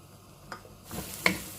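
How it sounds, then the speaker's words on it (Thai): Chopped onions stir-frying in olive oil in a pan for stuffed courgette filling, a soft sizzle rising after a few light clicks of a utensil, close and quiet. "ผัดหอม"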